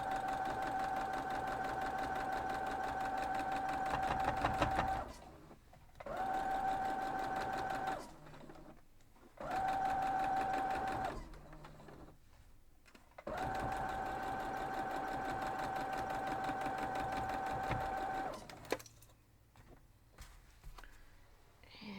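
A sewing machine stitching a quilt block, running in several steady bursts of a few seconds each with a clear whirring hum and short quiet gaps between runs, close by.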